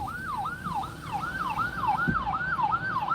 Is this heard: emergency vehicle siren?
yes